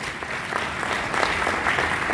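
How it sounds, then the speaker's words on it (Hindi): An audience applauds vigorously for doctors and science, dense steady clapping that grows a little louder toward the end, with no speech over it. "मैं चाहूंगा उनके लिए जोरदार ताली हो जाए"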